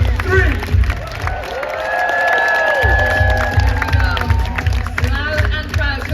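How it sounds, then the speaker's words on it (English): A large crowd at the start of the Ironman World Championship in Kona cheers, claps and screams together for first-time racers. The sustained roar is loud and dense, with voices mixed through it. "a massive round of applause and a big scream"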